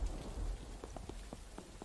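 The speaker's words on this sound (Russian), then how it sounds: "Дождь же идет." Soft steady rain falling in the Trader Life Simulator video game, with scattered light drop taps over a faint, continuous patter.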